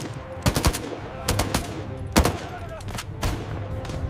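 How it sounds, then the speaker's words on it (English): Machine gun fire in a battle around a bridge as German infantry advance on airborne positions, with bursts of rapid shots at a moderate distance over a steady background rumble. "Heavy firefights erupt around the bridge as German forces attempt to push forward."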